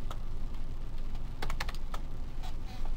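Fingers type briskly on a computer keyboard, a quiet run of close, light key clicks in small irregular bursts with brief gaps between them, alone without any talk.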